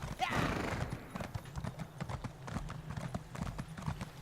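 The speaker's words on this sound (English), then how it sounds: "let me get out my horse here" A horse ridden along a road in the fantasy game Elder Scrolls Online clops steadily, its hoofbeats close and rhythmic, with a brief whinny at the start.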